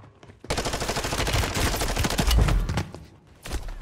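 Rapid automatic gunfire from a Vaznev 9K in a Call of Duty match on Rebirth Island, a dense sustained burst of close, loud shots lasting a few seconds, with a short pause and a further burst at the end.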